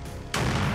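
An explosion in a wartime setting where small mobile drone units operate, a single loud blast bursting in suddenly after a moment of quiet and rumbling on broadly until the end.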